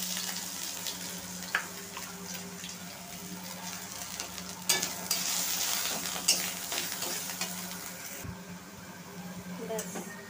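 Potato and pointed gourd chunks frying in oil with ginger paste, a steady soft sizzle under occasional spatula scrapes, fairly quiet and close, with a voice talking now and then.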